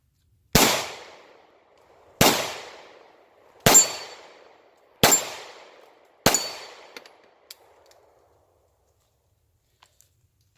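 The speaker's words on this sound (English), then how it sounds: "We'll be shooting at my little gong." Five sharp pistol shots from a Bond Arms Bullpup ring out at steady intervals outdoors, each followed by a brief decaying ring. A few faint metallic pings from a small steel gong trail after the last shot.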